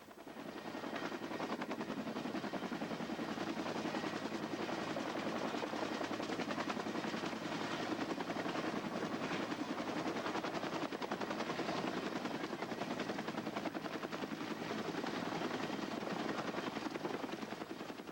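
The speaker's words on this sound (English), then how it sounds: "Los Angeles City Fire Department rescue helicopters did the job" A Los Angeles City Fire Department rescue helicopter drones steadily overhead, its rotor chop a constant dense wash that holds level for the whole stretch without pause.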